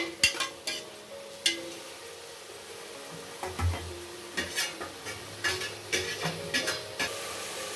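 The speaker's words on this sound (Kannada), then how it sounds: "ನೀಟಾಗಿ 2 ರಿಂದ 3 ನಿಮಿಷ ಇದನ್ನು ಮೆಂತ್ಯ ಸೊಪ್ಪನ್ನ ಫ್ರೈ ಮಾಡಿಕೊಂಡ್ರೆ ಸಾಕು." Fenugreek leaves frying in a pan for a healthy fenugreek-leaf pulao, stirred with a utensil that scrapes and knocks against the metal in repeated strokes over a faint sizzle, with no talking.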